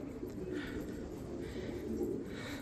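Pigeons coo steadily in a low, rolling murmur near a loft, a soft continuous burble with no voices over it.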